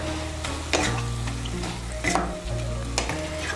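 Spinach and aubergine ghonto with bori, salt and green chillies sizzles loudly in a frying pan while a spatula scrapes and stirs it in a few distinct strokes, with no talking.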